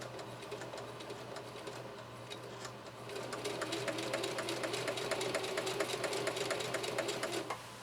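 A Singer Heavy-Duty 4423 sewing machine drives through four layers of denim with a steady, close mechanical whir and rapid needle ticking, picking up speed partway through and running alone without voices.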